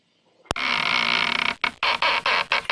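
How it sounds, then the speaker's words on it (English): A door creaks open with one long, loud, strained squeal that cuts off and then returns in short broken creaks, staged as a gatekeeper opening a door in a school production of Macbeth. "Gatekeeper opens door with a creak."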